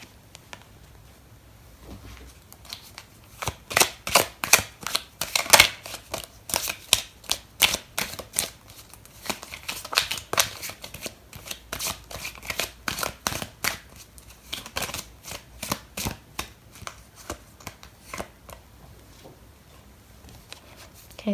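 Tarot cards being shuffled by hand in a reading, with repeated soft riffling and flicking bursts in irregular rhythm, close and fairly quiet, with no voices.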